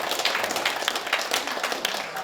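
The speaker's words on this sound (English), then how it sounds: "Give that a round of applause" An audience at a poker comedy night applauds in a dense, steady burst of clapping that lasts a couple of seconds.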